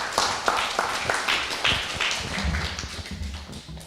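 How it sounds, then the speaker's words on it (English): An audience at a church debate championship applauds a speaker, a short burst of scattered, fairly close handclaps that thins out toward the end. "let's give him a round of applause"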